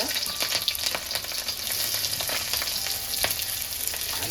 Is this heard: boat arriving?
no